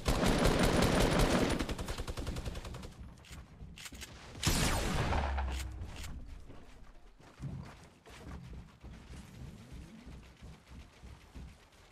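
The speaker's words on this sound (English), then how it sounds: "A minigun?" A minigun in Fortnite unleashes a loud, continuous rattling stream of fire for about three seconds. A sharp burst follows, then fading mechanical clatter and scattered quieter shots.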